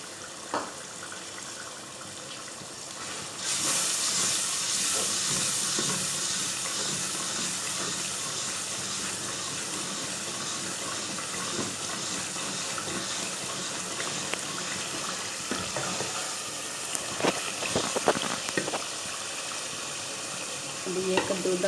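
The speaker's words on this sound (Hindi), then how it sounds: "अब इसमें थोड़ा सा पानी डाल लें।" Water poured into a hot pan of cooking dal gives a sudden loud hiss that settles into a steady sizzle and bubbling, with occasional stirring clinks and scrapes close by.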